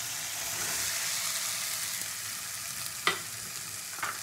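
Rice being stirred and fried with masala, winter vegetables and a little vinegar in a pan: a steady soft sizzle throughout, with a couple of sharp scrapes of the spoon near the end.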